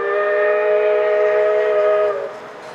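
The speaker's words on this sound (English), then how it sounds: "a few riders had the unusual experience of riding alongside a steam locomotive passenger train" A steam locomotive pulling a passenger train near Georgetown, Colorado sounds a long, loud multi-tone whistle, held steady for about two seconds before cutting off into a quieter rumble.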